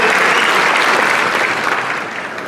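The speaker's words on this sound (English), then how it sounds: "Let's give him a round of applause as he fills in the 10th Ward seat." Loud, dense applause from an audience at the 2017 Aurora inauguration, welcoming the new 10th Ward Alderman, sustained clapping close by that tapers slightly at the end.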